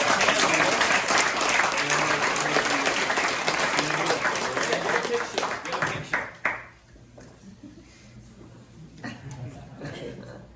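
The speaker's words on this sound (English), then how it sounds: "let's give a round of applause for our" A crowd at a real estate investor meetup claps and applauds loudly and steadily for several seconds, then the clapping thins out and fades to scattered claps and quiet murmurs.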